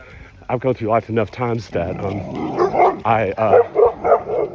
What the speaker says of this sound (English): My dog's barking at somebody, at another dog.